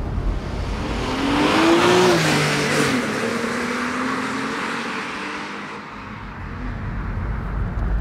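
A Porsche Boxster engine revs up hard while accelerating, its note climbing and then easing off as the car passes fairly close, with tire and road noise trailing afterward and no talk.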